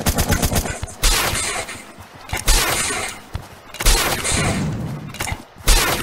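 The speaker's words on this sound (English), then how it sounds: "I missed every single one of my shotgun shots." Shotgun fire in a video game: three or four loud, close blasts spaced about a second apart, each a sharp boom with a crackling tail, no voices over them.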